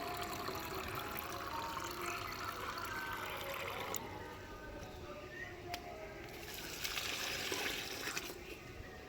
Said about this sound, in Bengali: এই যে গাছে জল দেবো বলে জল নিচ্ছি।